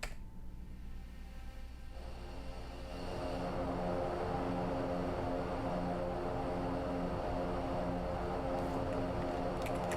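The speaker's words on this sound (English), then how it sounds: "Whoa! Here comes the bombers, guys." Tu-142 bombers drone in during a large-scale combat flight sim battle, a loud, steady propeller roar with layered engine hum that swells after a quiet opening and holds constant, with no talking.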